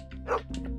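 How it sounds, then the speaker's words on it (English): Dogs in a video game give a quick yip and bark, two short close barks in under a second over a low steady game hum. "They both bark."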